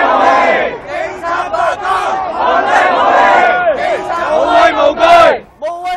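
A huge protest crowd outside government headquarters chants and shouts slogans in loud, overlapping waves of many voices, with rising and falling surges before a brief drop near the end.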